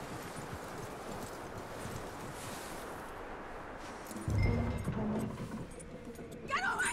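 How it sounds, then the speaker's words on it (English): Horse hooves clip-clop over rustling ground in the Red Dead Redemption 2 video game. The steady mid-distance steps are joined by a heavier thump and some faint game sounds near the end. "That looks like a decent horse."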